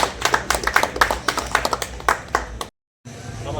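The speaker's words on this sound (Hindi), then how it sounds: "तालियों की गड़गड़ाहट से स्वागत करें।" At a Hanuman temple festival gathering, an audience claps to welcome a guest: close, fairly rhythmic handclaps from a small group that stop abruptly, then low room noise.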